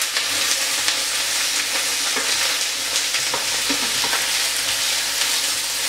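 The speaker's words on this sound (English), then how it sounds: "you just want to really caramelise the onions if you can, caramelise the onions and the leeks if you can" Onions and leeks fry and sizzle steadily in a pan while being stirred, with a continuous hiss and occasional scraping clicks from the utensil, close and fairly loud, no talking.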